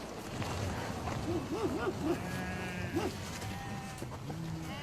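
Sheep in dry mountainous terrain let out several wavering bleats at moderate distance against outdoor background noise, with someone talking over them.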